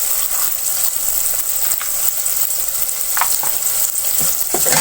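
Potatoes and capsicum fry with turmeric, red chili and salt under a loud, constant crackle. Stirring scrapes and light spoon taps come through near the end.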